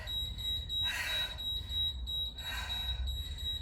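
A workout interval timer gives two short bursts of high electronic beeping about a second and a half apart, fairly faint over a steady room hiss.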